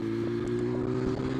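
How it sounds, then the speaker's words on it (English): A 2024 BMW S1000RR motorcycle exhaust drones steadily and close by on the throttle, a continuous low engine tone with a few faint fluctuations and no speech. "when you get on the throttle, it really opens up the exhaust, and you get that really nice"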